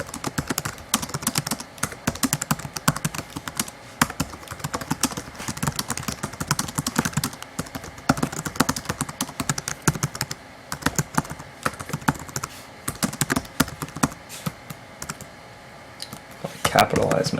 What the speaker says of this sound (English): I can type directly into the editor here a simple introductory sentence such as this